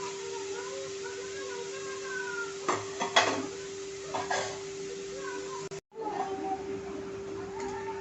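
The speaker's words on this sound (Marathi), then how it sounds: "सतत मिक्स करत ना हे शेंगदाणे छान असे मीडियम फ्लेमवरती भाजून घ्यायचे आहेत।" Salted peanuts roasting in a pan over a medium flame, stirred with a utensil: a few scraping and clattering stirs against the pan over a faint steady hum, quiet overall with a brief cut near the end.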